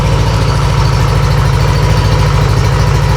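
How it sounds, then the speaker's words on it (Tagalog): Yamaha Nmax scooter engine idling after warm-up, a steady low pulsing putter with even RPM, close and loud, running alone without any voices. "Nung na-warm up na natin ang engine, stable na yung kanyang RPM."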